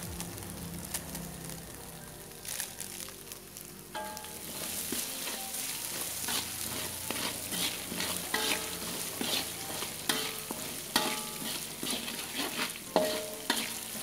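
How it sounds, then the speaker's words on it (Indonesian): Spices and seasoning for a jalang kote (pastel) filling sauté in a hot pan with a steady, continuous sizzle, punctuated by frequent scrapes and clicks of stirring throughout, close and fairly loud with no talking. "Tumis sampai agak harum."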